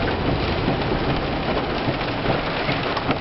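Steady, dense rain pours down at a flooded lake during heavy June rainfall, a constant close hiss with no voices.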